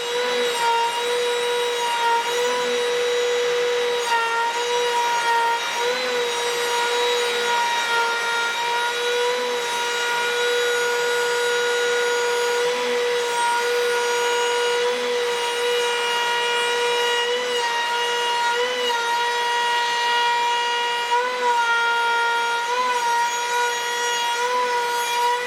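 Homemade router table with no base routing a wooden workpiece, a steady, loud high-pitched machine whine that runs continuously throughout with faint rubbing texture underneath.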